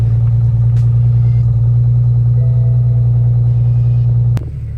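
A BMW with the N54 engine idles close by, a steady low drone with faint mechanical ticking that cuts off abruptly near the end.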